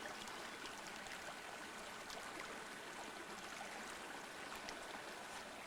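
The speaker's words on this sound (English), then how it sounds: "Pretty nice little creek." A small creek flows steadily beside a horse camp, giving a continuous soft, broadband rush and trickle of water with no voices, fairly faint and even throughout.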